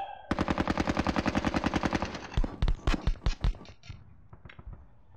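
Gunfire sound effects from the Sealion '40 wargame: a fast, steady machine-gun burst of about two seconds, then a handful of heavier, booming single shots spaced apart, fading into quiet, with no voices.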